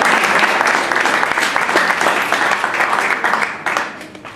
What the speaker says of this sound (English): so I think another round of applause is just